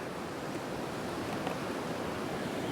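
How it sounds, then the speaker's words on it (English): Loud river flowing beside a rainy camp, a dense, steady rushing wash of water that fills the whole scene with no pauses. "I'm by a river, a very loud river"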